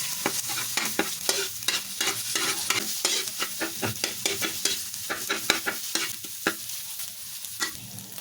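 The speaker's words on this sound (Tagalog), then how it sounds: "Tayo ay magprito ng itlog." Eggs fry in a hot pan, giving a steady, crackling sizzle. Frequent sharp scrapes and clicks of stirring or a utensil on the pan punctuate it throughout, with no voices.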